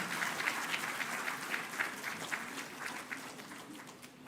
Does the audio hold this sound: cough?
no